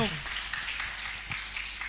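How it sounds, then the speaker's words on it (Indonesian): An audience at a campus event at UIN Siber Syekh Nurjati Cirebon claps for Prof Inung, a steady, fairly quiet patter of many hands with voices mixed in. "tepuk tangan dong untuk Prof Inung"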